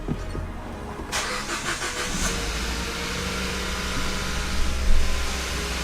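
A Kia Ceed GT engine, recently repaired for a misfire, cranks and catches around a second in, then idles with a steady close rumble and a faint hiss, no talk over it.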